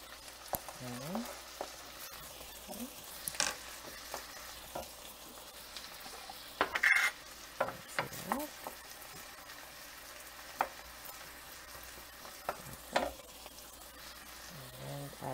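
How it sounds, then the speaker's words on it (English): Meat frying in a pan with a steady low sizzle as chopped onion is added and stirred in, with occasional sharp scrapes and clinks of a utensil against the pan. "After half browning our meat, we're going to add our beautiful onion."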